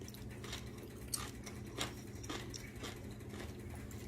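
Someone chews cooked asparagus with a slight crunch, producing soft, irregular crisp bites and mouth sounds up close over a quiet room hum.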